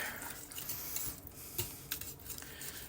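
Spoon scraping and clinking in a pot of creamy mushroom pasta sauce, soft intermittent stirring taps and scrapes, close and quiet with no talk.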